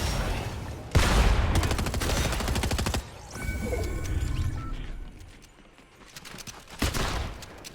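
Video game gunfire in a fast shooter match, heard as rapid bursts of automatic fire and sharp single shots spread across the clip, loud and close, with quieter gaps and electronic effects between volleys.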